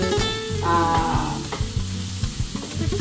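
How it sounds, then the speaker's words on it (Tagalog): Garlic sizzles loudly as it hits a hot pan for a beef dish with miswa noodles and patola, a steady crackling fry with stirring, accompanied by a recurring low tonal pattern throughout. "Tapos, lagyan na natin yung bawang."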